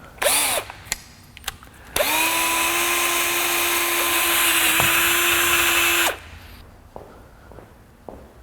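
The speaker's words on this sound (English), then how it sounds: "I wanna drill on the edge at an angle so it drills along the side" A power drill whines steadily for about four seconds, drilling at an angle into the edge of a metal tube with a high, even grinding tone; a few clicks and handling noises before and after.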